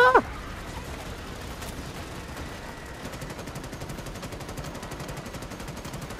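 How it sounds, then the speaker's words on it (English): Automatic gunfire rattles in the video game Starship Troopers: Extermination. A sharp burst opens the clip, then dense, rapid shots keep up a loud, continuous clatter throughout. "Oh, that thing's shooting me."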